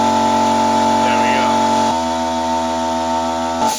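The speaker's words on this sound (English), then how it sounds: "So I stalled the sander quite easily there, and then the compressor kicked back in very quickly" A RocwooD silent 50L air compressor runs loud and steady while an air sander stalls and drops off partway through, then briefly picks back up near the end.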